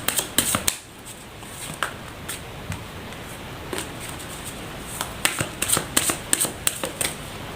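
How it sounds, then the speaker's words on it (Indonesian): Tarot cards are shuffled by hand in quick bursts of crisp riffling and flicking, clustered near the start and again toward the end with quieter handling between, close and fairly soft with no talking. "Saya shuffle terlebih dahulu"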